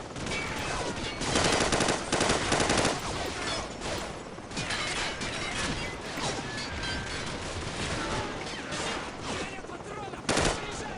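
Rapid automatic gunfire and single shots crackle through a firefight in the video game Call of Duty 4: Modern Warfare, loud and dense with a few bursts standing out, while a player talks over it.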